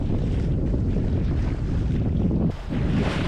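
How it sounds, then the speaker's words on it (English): Strong wind roars across a sailboat at sea rounding a headland near Mindelo, a loud, steady buffeting with heavy microphone wind noise and water rushing beneath it. "Got the wind right on the nose"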